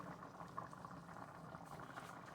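Water boils in a pan on the stove while enchiladas are being made, a soft, steady bubbling and hiss that stays even and faint throughout, with no voices.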